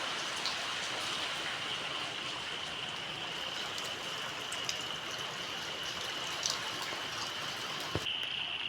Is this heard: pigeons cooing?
no